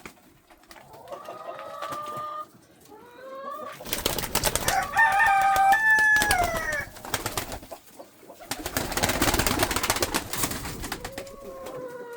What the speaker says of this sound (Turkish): Burada damızlık güvercinlerin burada e, yavru almaya başladık.